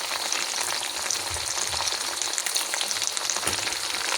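Green chillies fry in hot oil in a pan with a steady, close, crackling sizzle while an egg kothu is being made, and faint stirring thumps come through now and then.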